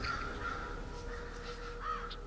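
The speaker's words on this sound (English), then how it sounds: "So we have crows all around, as you can hear." Several crows caw repeatedly at a moderate distance over a steady outdoor background hum.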